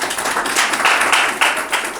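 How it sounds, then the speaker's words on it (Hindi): A church congregation at a Sunday healing prayer service claps loudly together, a brisk burst of hand claps close by that swells and carries on for a couple of seconds. "ताली बजा दीजिए एक बार जोर से।"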